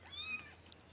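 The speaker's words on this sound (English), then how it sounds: "those are our kitties" Kitten meows from an abandoned kitten, a short rising cry with bright harmonics, fairly close and soft, alone with no talk.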